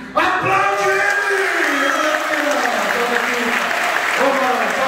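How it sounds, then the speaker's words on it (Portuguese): Church congregation applauding during a Portuguese-language service, a steady, dense wash of clapping from a large crowd that carries through the whole stretch, with cheers, whoops and voices rising over it. "Aplaude ele!"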